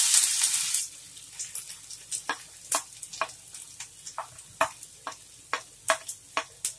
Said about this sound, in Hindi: तो हम इसमें सबसे पहले प्याज डाल देंगे।